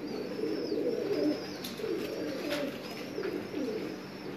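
Racing pigeons at a loft coo in low, repeated throaty rolls, close and moderately loud, with faint chirps and outdoor ambience behind them.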